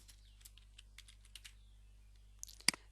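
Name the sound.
typing code on a computer keyboard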